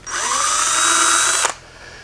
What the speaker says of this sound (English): if that's not enough, just step up your drill bit just a little bit